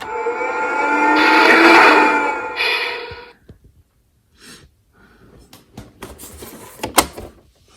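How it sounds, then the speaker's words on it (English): A big Galaxy's Edge Millennium Falcon toy plays its door-opening effect, a loud whooshing hiss of a couple of seconds that trails off, followed by quieter clicks and a sharp snap. "open it so you can hear the sound when you open it and see the lights"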